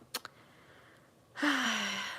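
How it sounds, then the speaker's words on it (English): A dog snoring indoors: two brief snuffling breaths, a pause, then one long, loud, raspy exhale that fades slowly, with no talking. "Sorry, my dog is snoring."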